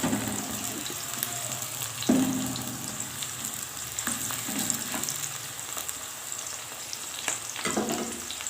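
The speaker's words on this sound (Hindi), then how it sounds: "प्याज को 1 से 2 मिनट के लिए हम सौटे करेंगे।" Onions sauté in a pan for masala pulao with a steady sizzle, broken by occasional sharp scrapes and stirring clatter of a spoon against the pan.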